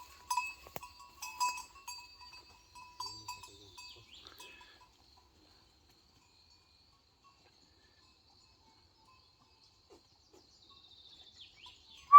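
Goats bleating in a farm setting, several calls clustered in the first few seconds, then near silence with a few faint rustles toward the end.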